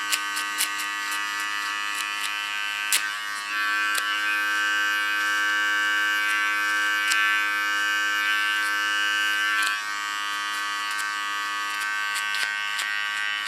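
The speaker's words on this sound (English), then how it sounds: "This is a Wahl clipper." A Wahl electric hair clipper buzzes steadily and loudly through a men's haircut, its tonal hum holding for the whole stretch with small shifts in pitch as it moves through hair.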